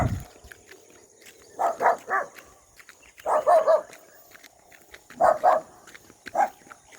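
A nearby dog barks in tight clusters of two or three sharp barks, pausing between bursts, over a quiet background with a faint steady whine.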